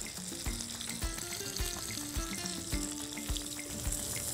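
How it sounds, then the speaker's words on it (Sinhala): Squid frying in oil over a low flame gives a steady, close sizzle and crackle lasting throughout, with soft tonal background music running underneath. "මේක අපි බදිද්දි අඩු ගින්දරේ බදින්න ඕනේ මොකද සී ෆුඩ් සේරම කුක් වෙන්න අවශ්‍ය නිසා"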